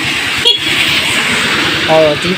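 A Suzuki Smash 115 motorcycle horn honks briefly near the end, a short harmonic blare over steady engine rumble and background noise.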